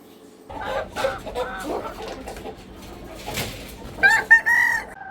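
Country chickens cluck and squawk nearby in uneven bursts, with a loud rooster call rising near the end over a quiet background.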